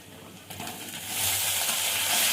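Potatoes drop into a pan of frying onions in mustard oil, a brief clatter followed by the sizzle swelling into a loud, steady hiss up close.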